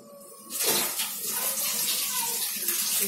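Liquid for spiced lemon tea with salt and sugar added, starting a rolling boil in a pot, a steady watery bubbling and hiss that swells after a half-second and carries on close and fairly loud.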